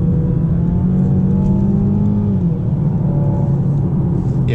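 A Mercedes A-Class car cornering at speed, its steady engine drone and road rumble continuous and close throughout, with the engine note rising slightly and falling as it sweeps through the bend.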